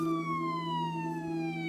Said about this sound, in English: he heard police sirens in the distance.